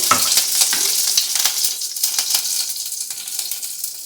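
Curry leaves and mustard seeds hit a small amount of hot oil in a pan, crackling and sizzling loudly with sharp pops and spits up close that gradually settle into a softer fry.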